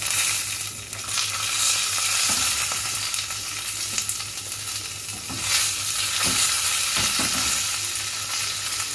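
Steady, crackling sizzle of curry leaves frying in hot oil, with a few sharp pops and spatters, close and continuous with no talking.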